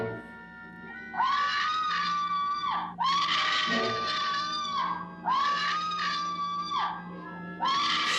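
Screams from the 1959 horror film House on Haunted Hill: four long, piercing, sustained shrieks in close succession, each separated by a brief drop, loud and dominant throughout.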